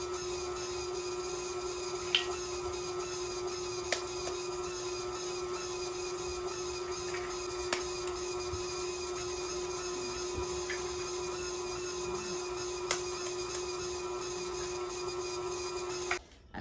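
An electric mixer whirs steadily, creaming sugar and butter for a Jamaican fruit cake, a constant mechanical hum with a few faint clicks and knocks along the way, ending abruptly.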